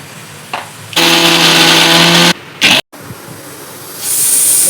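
A mixie mixer grinder whirring loudly as it grinds chillies and salt, running in a steady burst of a second or so, then stopping, with a short second pulse and a hiss after.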